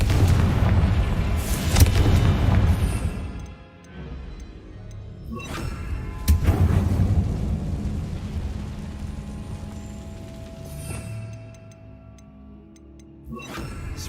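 Deep booming blasts from the Confringo spell in Hogwarts Legacy roll out in several heavy bursts, each followed by a rumbling decay, with quieter stretches of ambient game sound between them.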